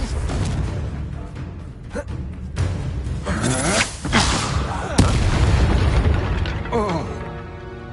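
Fire spell blasts in Hogwarts Legacy, several booming bursts going off one after another across a busy stretch of combat noise, loud and close.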